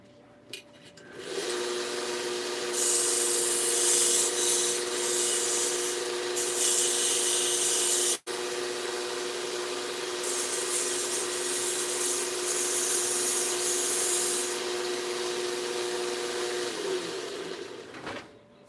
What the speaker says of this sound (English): So we'll come over here to the sander.